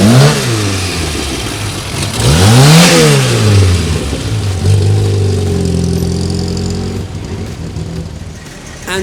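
A Mustang GT Cabriolet drives past close by, its V8 engine note sweeping up and down as it nears and recedes, with a loud, rumbling pass-by and a fading tail.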